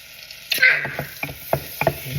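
Food sizzles in a pan as it is stirred, with a burst of frying at first and then a run of sharp utensil knocks and scrapes at an uneven pace.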